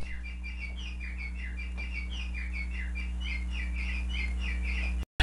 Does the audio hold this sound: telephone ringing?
no